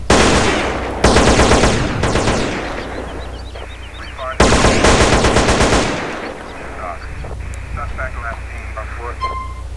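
Heavy automatic gunfire in GTA San Andreas during a factory mission mod: two loud, prolonged machine-gun bursts, each fading into scattered shots and clanks over a low steady drone.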